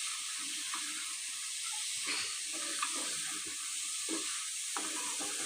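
Mixed potatoes, peas and cabbage sizzle in ghee on a low flame, a constant hissing fry punctuated by intermittent spoon stirs and scrapes, close and even in level.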